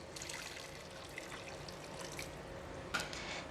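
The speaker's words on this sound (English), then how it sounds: "now I'm going to add in about 400 ml of water" About 400 ml of water poured into a pot of cooked char siew pork and its gravy, a steady close trickle and splash running throughout, with a brief louder splash near the end.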